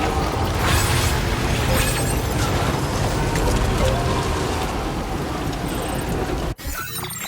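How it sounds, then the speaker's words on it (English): Heavy rain pours steadily through the video game Death Stranding 2: On the Beach, a loud dense hiss that holds for several seconds before briefly cutting out near the end. "This rain is killing me."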